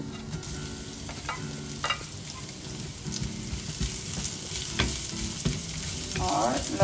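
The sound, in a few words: garlic sizzling in hot oil with cumin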